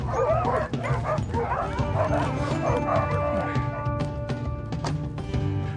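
Sled dogs being harnessed bark, yip and whimper excitedly in a loud, close, overlapping chorus, with fast bursts early and continued whining yelps toward the end.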